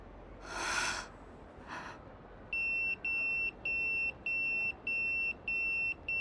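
A phone ringing in the video game Yakuza 0: a steady electronic ring in six evenly spaced pulses, following a couple of brief breathy noise bursts, with no talk.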